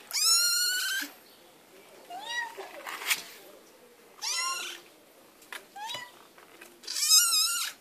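A cat meows repeatedly, loud and close, in several drawn-out cries spaced a second or two apart, with someone speaking softly between them.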